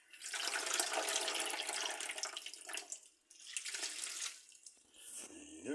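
Water runs from a tap while casaba is washed in a kitchen, a loud splashing rush that pauses briefly twice before flowing again, close by.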